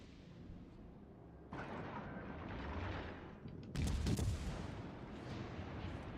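Naval guns fire in World of Warships Legends, with heavy booming salvos rolling over a constant rumble of battle noise. The whole scene sounds fairly distant and subdued.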